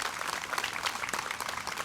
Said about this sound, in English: Can we please give them a round of applause for just their courage and bravery and their sacrifice?